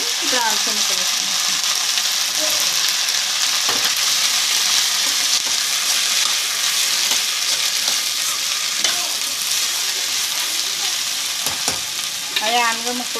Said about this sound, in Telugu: ఇప్పుడు ఆనపకాయ ముక్కలు వేసుకుంటాం